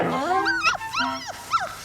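A female dog in a film whimpers as though sick from food, giving several close, high, wavering whines that rise and fall in quick succession.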